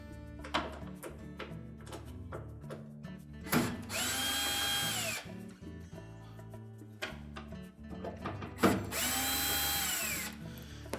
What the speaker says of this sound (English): we're going to remove these 2 screws that secure the main top to the cabinet